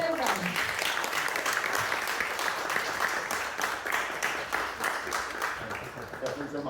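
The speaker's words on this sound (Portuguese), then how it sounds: "Dê uma grande salva de palmas para recebermos o César." An audience applauds to welcome LEGO designer César at a Star Wars Death Star meet and greet, a dense, steady wash of many hands clapping that fills the room from start to finish, with voices mixed in.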